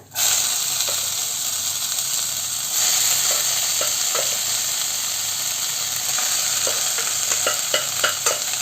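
Cooked, drained lentils are stirred into a hot, frying coconut mixture for a Thrissur-style parippu thoran, making a loud, continuous close sizzle that swells briefly, with light scraping and clicking from stirring toward the end.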